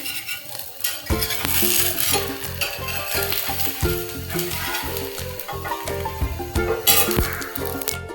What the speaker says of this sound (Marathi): चला मी आता पलटी मारते पहिलीच आपली